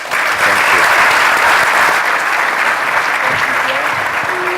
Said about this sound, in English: Nice round of applause to our two panelists.